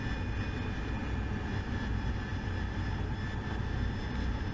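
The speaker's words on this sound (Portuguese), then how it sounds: "Aqui tem que manter o acelerador" An AV-8B Harrier jet engine at full throttle in the DCS flight simulator gives a steady, loud roar with a constant high whine running underneath. It holds unbroken for several seconds with no talk.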